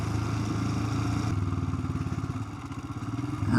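A motorcycle named Blizzard is ridden on a midsummer morning commute through the White Peak, its engine throbbing steadily and pulsing faster toward the end, with wind rush and no speech.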